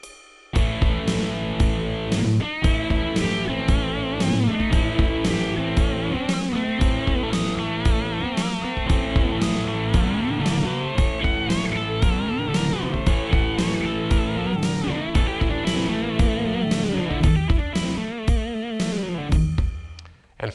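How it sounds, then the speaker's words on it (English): An electric guitar runs through an AdrenaLinn II effects unit set to beat-synced delay, playing chords and soloing while repeats come back in time over a rhythmic internal drum pulse. The sound is dense, continuous and loud, with no talking. "This is beat sync delay, in which the delay actually comes back a second later in sync to the beat."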